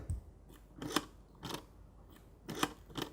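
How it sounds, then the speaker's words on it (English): Several sharp mechanical clicks of a Eumig C3 double 8mm film camera's single-frame shutter release, spaced irregularly, each crisp and close, with quiet gaps between. "you can hear the camera take one shot."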